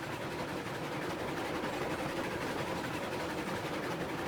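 A Heisler steam locomotive hauls a train in Railroads Online, a steady rolling rumble and hiss with no breaks, even and fairly close, with no talk.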